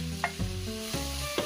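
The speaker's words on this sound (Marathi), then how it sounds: "आता कांदा छान असा आपल्याला परतवून घ्यायचा आहे।" Finely chopped onions fry with whole spices for egg biryani. There is a close, steady sizzle with a few soft scraping stirs at regular intervals and a low hum underneath.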